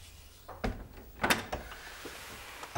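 Door closing in an indoor scene of a Spanish-language telenovela, with a soft handling knock, then a sharper thud and latch clack near the middle, fairly close, and a few faint bumps afterward with no voices.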